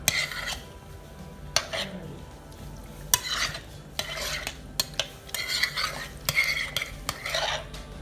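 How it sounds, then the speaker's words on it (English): A spoon stirring sour cream and tinned apples in a bowl, with repeated soft scraping and clinking strokes against the dish, close and steady with no talking. "Gently stir it until the sour cream and the tin apples are well combined"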